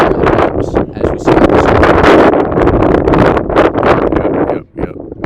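Strong gusts batter the microphone outdoors at an ultimate frisbee game, a loud, continuous roaring rumble that swells and briefly drops near the end.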